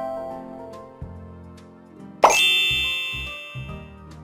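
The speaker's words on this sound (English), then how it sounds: "Now tap all the bubbles to pop them." Bubbles popping in a PAW Patrol pup-washing video game: a single bright plop-like pop with a ringing tail rises over soft game music, with a few lighter taps around it.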